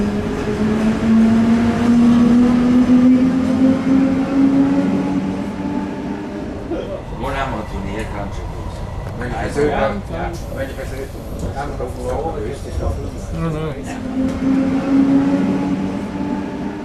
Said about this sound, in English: And now it's time to take the train and go to Stein on Rhine.